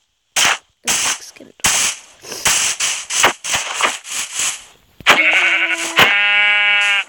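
Sheep in the video game Minecraft give two loud, drawn-out bleats near the end. Before them comes a series of sharp, separate bursts of sound with short gaps between them.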